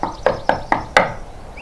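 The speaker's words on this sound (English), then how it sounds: "called Daddy Pig, knocking on the door." Knocking on a cottage door in a Peppa Pig read-aloud: five sharp, evenly spaced raps, close and loud, with no voices over them.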